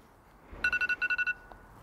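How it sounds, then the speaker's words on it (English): A phone alarm sounds in a quick burst of about eight short, bright electronic beeps, clear and close against a quiet background. "That was just an alarm"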